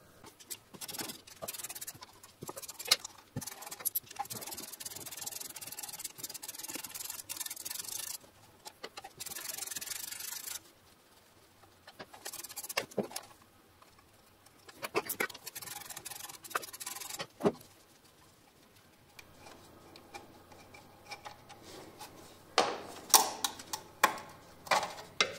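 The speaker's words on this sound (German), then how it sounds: "Dafür schraubt man mit einer 10er Nuss die 5 Schrauben raus." A socket wrench with a 10 mm socket undoes the timing belt cover bolts on an Audi, VW, Skoda or Seat 1.4 or 1.9 TDI engine. The ratchet ticks and rasps in repeated close bursts with short pauses between them.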